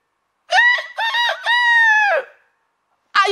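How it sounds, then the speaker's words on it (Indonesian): A rooster crows loudly and close in a clear multi-part cock-a-doodle-doo, then silence before another crow begins at the end. "Ayam jantan."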